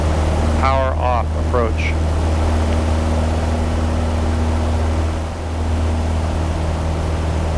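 Simulated single-engine airplane at full throttle in the Prepar3d flight simulator, a steady loud droning engine hum holding throughout the takeoff run, with a brief spoken word over it early on.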